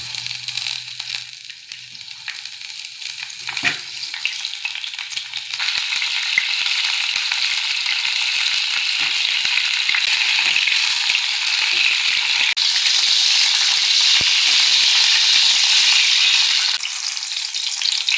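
Cut eggplant sautés in sesame oil for kara kuzhambu, a loud, continuous close-up sizzle that swells after a quieter start and stays strong, with faint crackles and stirring clicks underneath.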